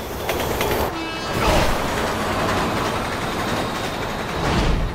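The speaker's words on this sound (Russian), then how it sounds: "Поезд!" A train rumbles through a scene in the video game Resident Evil 6, a broad continuous roar that swells noticeably partway through and stays loud throughout.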